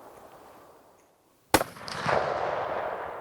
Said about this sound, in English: set up targets and check the zero on their muzzleloader and rifle